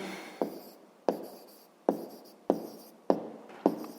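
Pen writing numbers by hand on paper during a sixth-grade maths exercise: six short scratching strokes in a fairly even rhythm, close and distinct, with no talk.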